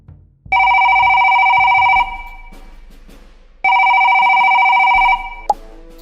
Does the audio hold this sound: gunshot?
no